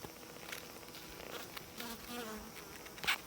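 A honey bee buzzes close by, its droning whine rising and falling for several seconds with a sharp louder burst near the end, heard alone without talk.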